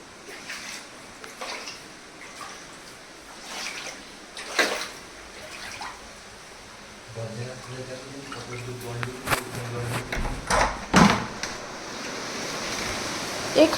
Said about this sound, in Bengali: হ্যাঁ, জল ঢুকছে, এদিক দিয়েও জল ঢুকছে।